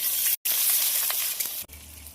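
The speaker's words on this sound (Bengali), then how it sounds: "ভাজার জন্য খুব ভালোভাবে নেড়ে দেবো" Chopped onion with bay leaf, dried chilli and cumin frying in hot oil, a steady hiss broken by two brief cuts as it is stirred.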